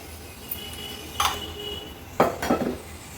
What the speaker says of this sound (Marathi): गोड माशाचं कालवण बनवण्यासाठी गॅसवर हे पातेलं ठेवलं आहे।